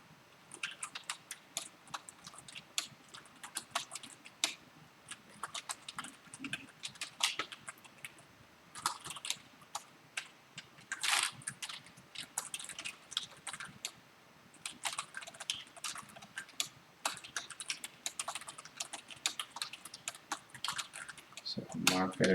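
Code is typed on a computer keyboard with a fast, uneven patter of close key clicks and occasional louder taps, continuing steadily with brief pauses between bursts.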